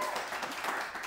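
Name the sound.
studio audience applause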